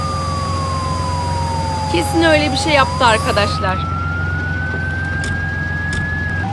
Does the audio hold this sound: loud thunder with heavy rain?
no